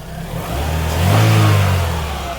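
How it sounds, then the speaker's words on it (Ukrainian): Cold Chevrolet Aveo 1.6 petrol engine running loud and close before a test drive, its low steady drone swelling into a brief rev around the middle and settling back, with no one talking. "Тобто Двигун живий, але він зараз же холодний."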